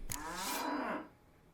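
A cow in The Witcher 3: Wild Hunt lets out a single drawn-out moo, strong and close, lasting nearly a second before cutting to quiet, preceded by a brief sharp click.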